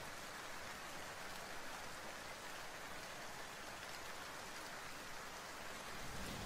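Rain falls steadily, an even, soft hiss of drops with no distinct breaks, faint and continuous throughout.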